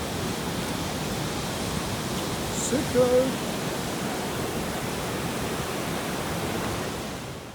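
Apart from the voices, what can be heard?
waterfall on the Bolaven Plateau, Laos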